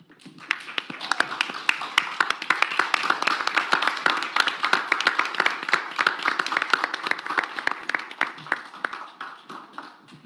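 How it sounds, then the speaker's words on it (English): Applause from the audience at a city council meeting honoring veterans, a dense, continuous burst of many hands clapping that holds steady for about ten seconds before tapering slightly at the end. "So, matter of fact, we want to applaud you."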